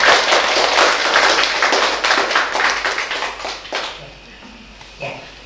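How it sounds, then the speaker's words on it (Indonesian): Audience applause for Pastor Tony at a Catholic scripture course, a dense burst of clapping from a crowd that fills the first few seconds, then thins out and trails away to scattered claps. "kita beri aplaus dulu buat Pastor Tony"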